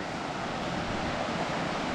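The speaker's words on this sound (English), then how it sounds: "But there is a waterfall" A waterfall pours into a gorge at the end of a trail in Grafton Notch State Park, a steady, faint wash of rushing water heard from a distance with no voices over it.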